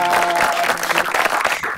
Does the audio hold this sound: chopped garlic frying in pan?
no